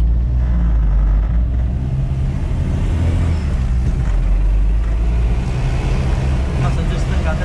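A Suzuki Samurai off-road vehicle pulls away with a loud, steady low engine rumble close by, holding through the whole stretch while people talk over it.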